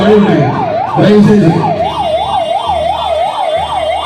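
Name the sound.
ambulance siren during election campaign in Thoothukudi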